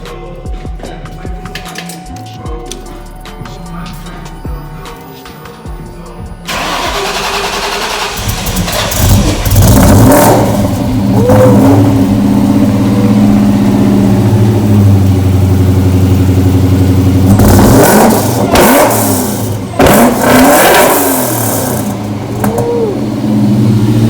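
A Ford Mustang Foxbody engine cranks over and fires, then settles into a loud, rough idle close by with repeated throttle blips and revs swelling and falling over a steady rumble.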